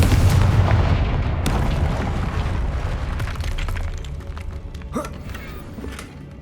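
A Confringo blasting spell explodes in Hogwarts Legacy as a loud, close burst of booming, crackling noise that rumbles on and slowly fades, with a few sharper cracks and a whooshing sweep near the end.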